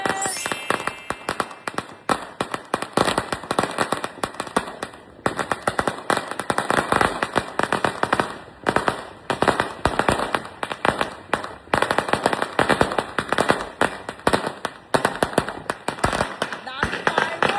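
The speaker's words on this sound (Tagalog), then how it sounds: "Dami fireworks!" New Year fireworks and firecrackers burst in rapid, dense volleys of loud cracks and pops, with near-continuous crackling and a few heavier bangs. Voices of people celebrating can be heard under the explosions.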